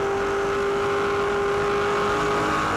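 A 2007 V8 Supercar sings at steady high revs as it climbs Lukey Heights at Phillip Island, a loud, sustained engine drone with a firm, unwavering pitch and no voices over it.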